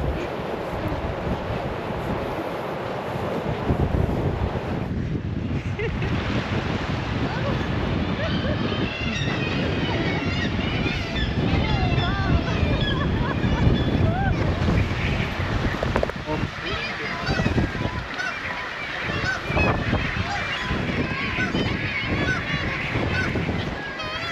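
Strong wind buffets the microphone on a clifftop on Mykines Island in the Faroe Islands, a loud, continuous roaring rush that stays steady throughout, with seabird honks and a voice talking over it.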